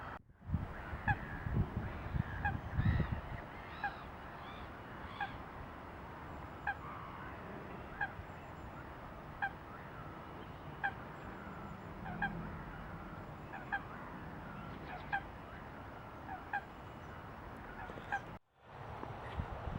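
Geese honk and call repeatedly beside a carp fishing lake, a steady series of moderately distant honks over faint wind noise, with no one speaking.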